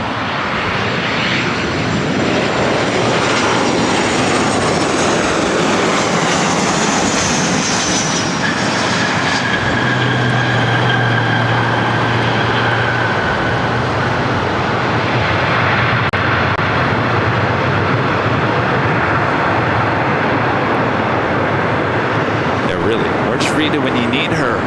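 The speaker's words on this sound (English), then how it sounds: "United flight coming in from SFO at next arrival." A United airliner arriving at LAX from SFO, flight 1897, gives a continuous loud jet engine roar with a falling whine, heard up close and steady throughout.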